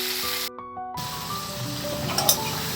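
Cauliflower sizzles steadily in a hot kadai while being stirred, a close frying hiss with a brief dropout and a few scraping, clinking stirs near the end.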